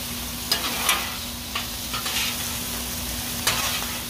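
Hamburger meat frying in a pan for loaded cheese fries, a steady close sizzle with a few sharp spatula scrapes and taps as it is flipped, no talking.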